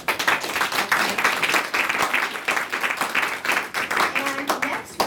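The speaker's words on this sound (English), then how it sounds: "let's give one of our three distinguished panelists, Mr. Jonathan Trent, a big round of applause" Audience applause for a panelist at a TED Global Talk event, a dense, steady clapping crowd sustained loud throughout, with a voice briefly heard near the end.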